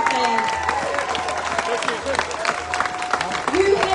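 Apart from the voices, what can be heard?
crowd applause at a protest concert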